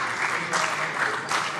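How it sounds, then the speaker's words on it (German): Applause fills a parliamentary plenary session of the Hessian state legislature, a steady dense clapping from many hands with no pauses, heard alone across the whole moment. "Ja, da kann man mal klatschen."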